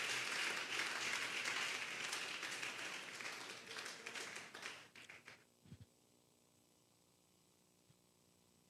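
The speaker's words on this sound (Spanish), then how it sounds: "Denle un fuerte aplauso pues al Señor" A Sunday afternoon church congregation breaks into applause, a fairly soft, dense patter of many hands that gradually thins out and stops, leaving near silence afterward.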